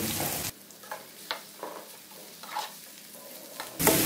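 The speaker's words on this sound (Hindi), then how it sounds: "बस इस तरह हम इसको गोल्डन ब्राउन होने तक जो है वो फ्राई करेंगे" Bitter gourd fries in a pan with a soft crackling sizzle, interrupted by intermittent stirring scrapes, with louder bursts at the start and end.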